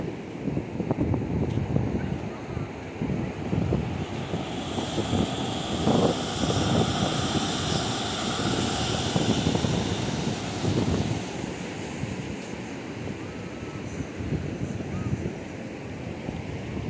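Sea waves washing onto the sand at Praia Quatro Ilhas beach in Bombinhas, Santa Catarina, a steady broadband surf roar with wind buffeting the microphone, continuous and fairly close, with no voices.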